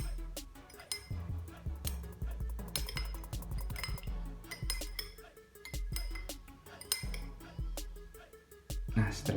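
A spoon stirs a cough remedy in a glass, tapping out rapid, bright clinks in steady rhythm, close and clear, while a voice speaks softly underneath.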